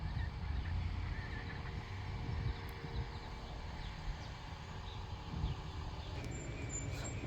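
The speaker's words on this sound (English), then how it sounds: "All the geese are out there." Free-ranging farm geese honk at a distance, scattered calls over steady low outdoor background noise, with no talking.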